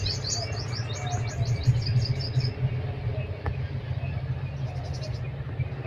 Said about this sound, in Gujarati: પોપટ આવ્યા